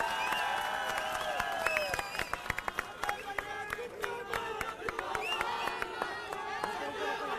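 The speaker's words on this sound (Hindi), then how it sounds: "जोरदार तालियों से स्वागत करिए" A crowd at an Indian political rally claps and cheers to welcome a speaker on stage, with scattered, crisp hand claps and raised voices heard fairly faintly at a distance.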